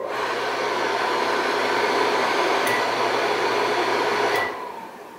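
The vent fan of a GE Profile sensor convection over-the-range microwave runs with a steady, airy whoosh and faint hum for about four seconds, then cuts off, leaving quiet room tone.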